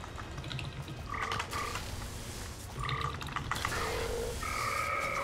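Frogs croak repeatedly in the video game Magicka, short tonal calls in bursts over a steady busy game background, fairly loud and close.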